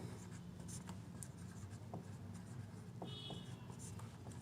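Digits are handwritten during a Class 6 math lesson with soft, scratchy strokes in short bursts, faint and close, over a quiet room hum.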